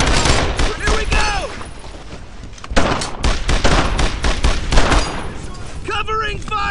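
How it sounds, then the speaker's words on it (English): Heavy gunfire in the World War II shooter Brothers in Arms: Earned in Blood during an attack on Flak 88 guns, with loud bursts of rifle and machine-gun shots in rapid volleys. Shouting voices cut in between the volleys. "Covering fire! Keep shooting! Keep shooting! Covering fire!"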